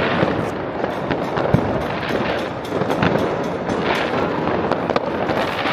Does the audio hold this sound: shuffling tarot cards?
no